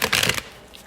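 A deck of tarot cards riffled in a quick fluttering burst of papery slaps, close up, stopping abruptly and leaving quiet.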